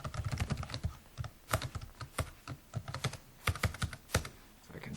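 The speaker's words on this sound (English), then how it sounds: "So I can type it correctly." Rapid, close clicking on a computer keyboard while entering code, a dense stream of keystrokes with brief uneven gaps and sharper accented taps.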